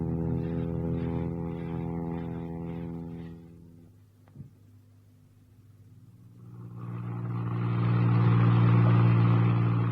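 A car engine drones steadily, goes quiet, then surges into a loud, swelling rumble as the car drives off toward a forest in Ireland.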